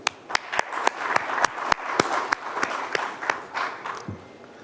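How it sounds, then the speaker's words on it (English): Audience at the India Today Conclave 2021 applauds steadily, a dense wash of many hands with a few sharp nearby claps standing out, moderately loud in a large hall, with no voices over it. "Let me applaud all of you for coming."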